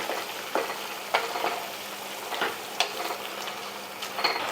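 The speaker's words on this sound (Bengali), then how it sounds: "সেই সর্ষে কালো সর্ষে সাদা সর্ষের পেস্ট দিয়ে দিলাম এবারে একটু নাড়াচাড়া করে দেবো" A paste of black and white mustard seeds sizzles steadily in a pan for a Rath Yatra offering dish, with a spoon scraping and tapping through it at irregular intervals, close and with no voices.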